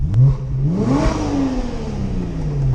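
A Porsche fitted with an Armytrix exhaust revs up loudly and close by, its engine note climbing to a sharp peak and then falling away into a deep, rumbling drone.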